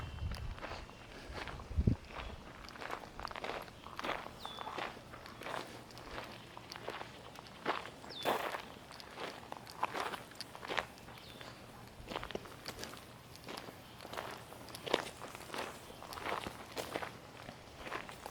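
Footsteps walking around a parked 2006 Saab 9-7x outdoors, a steady stream of light, close steps continuing evenly throughout, fairly quiet with no talk.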